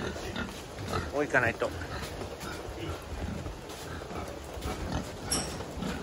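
Small pigs being moved into a fattening-pig barn: a short, sharp squeal rises over a noisy barn background, with a person talking through most of it.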